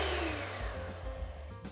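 A kitchen mixer beats buttercream for butterfly buns, a steady mid-pitched motor whir with a low hum running continuously without pause.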